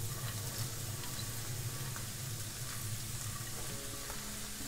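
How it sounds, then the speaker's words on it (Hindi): Corn and chopped vegetables for a vegetable hot and sour soup stir-fry over full heat in a pan, sizzling steadily with occasional clinks of stirring, faint and constant with no talk. "हीट अभी फुल पे है, इसे हमें स्टर फ्राई करना है।"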